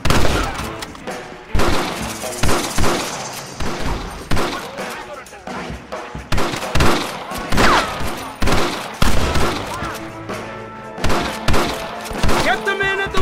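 Rapid gunfire rings out in a Red Dead Redemption cutscene shootout, sharp repeated shots and volleys cracking loudly in uneven bursts throughout, with voices shouting between them.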